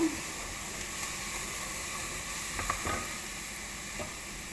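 Garlic sizzles in hot oil in a pan as it is stirred, a soft, steady frying hiss with a few light scrapes and taps from the spoon, close and fairly quiet.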